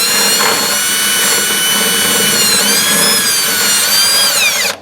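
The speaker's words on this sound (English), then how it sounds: "put the bit in there and just kind of start slow and let it walk itself to the low spot of that spot weld" Power drill with a bit cutting out a spot weld on a 1957 Chevy trunk panel, a loud, steady whine that holds for several seconds, rises slightly in pitch near the end, then cuts off.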